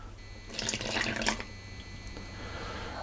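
Cooled water is poured into a bowl of Danish pastry dough mix along with milk and eggs, giving a short close splashing gush of about a second that then fades to quiet room noise.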